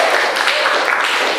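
A quick burst of schoolchildren's clapping for a classmate fills a classroom, dense and steady for a moment.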